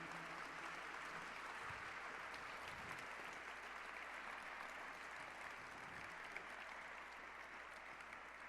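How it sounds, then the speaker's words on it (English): An audience in a living history program hall gives a steady round of applause for the heroes, a continuous, fairly distant wash of clapping that holds for the whole stretch. "If you can help me give a round of applause to our heroes"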